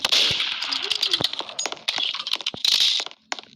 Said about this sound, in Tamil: இங்கே புல்லட் சவுண்ட் கேட்குது.